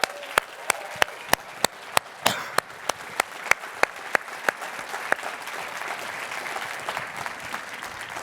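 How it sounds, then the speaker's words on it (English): An audience at a WordCamp Phoenix 2019 event applauds: a few loud, evenly spaced claps stand out over a steady spread of clapping that gradually thins toward the end. "Can we give a round of applause?"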